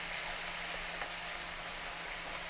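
Onions and gochugaru-braised bulgogi beef frying in a hot pan, a steady, dense sizzle that holds at an even level throughout, no voices.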